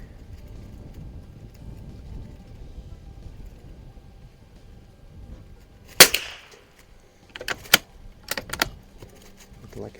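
Anschutz Biathlon 1827 rifle firing Wolf ammunition on a shooting range with open sights: after a quiet stretch, one sharp crack rings out, then a few more sharp reports follow in quick succession, moderately loud, with no talk.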